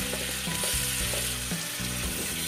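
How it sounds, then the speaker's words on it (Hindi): Steady sizzling of tomato puree and spices frying in a hot pan, with occasional stirring scrapes, continuous and close, no talking. "इसे भी हम 2 से 3 मिनट तक भून लेंगे"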